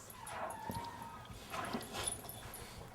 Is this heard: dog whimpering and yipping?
yes